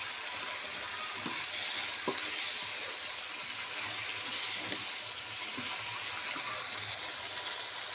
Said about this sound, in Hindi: अब इसमें ऐड करूंगी और इसको अच्छे तरीके से मिक्स कर लूँगी